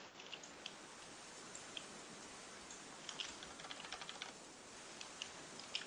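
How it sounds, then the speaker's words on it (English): Rapid, steady clicking of a computer keyboard as the E key is pressed over and over while playing a burger-themed game, faint and close with no talking. "I bet you can hear a lot of clicking."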